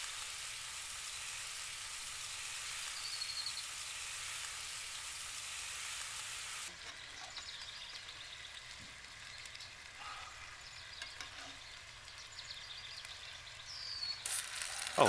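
Caramelized pears and plums with Cointreau sizzle softly in a pan, a faint steady hiss. It drops to a quieter, crackling simmer halfway through, with light pops near the end.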